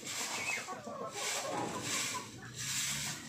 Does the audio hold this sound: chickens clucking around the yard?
yes